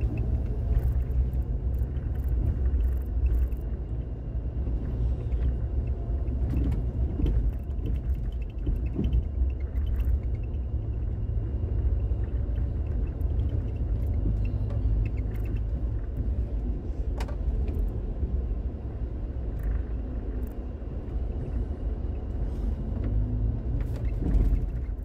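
A car travels the Estrada Sampaio Correia stretch of RJ-118/RJ-102 toward Rio de Janeiro, heard as a steady low road rumble and engine drone throughout, with occasional faint clicks and no voices.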